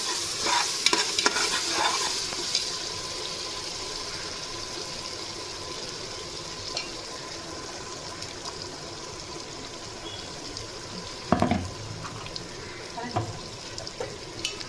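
Spice paste of ginger, garlic, fennel, cinnamon, cloves and dried chillies frying in a pan for tomato rice, giving a steady close sizzle with occasional stirring scrapes and clinks and no talk.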